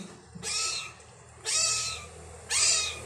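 Three high, plaintive meows from a hungry kitten repeat at roughly one-second intervals, close and clear over a quiet background.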